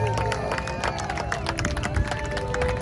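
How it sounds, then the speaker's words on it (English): Crowd cheering and clapping at a San Diego air show after a Marine Corps air-ground task force demonstration, a dense, steady roar of applause and voices, with jet noise and announcer-style talk mixed in. "Give it up for your United States Marine Corps Marine Air Ground Task Force"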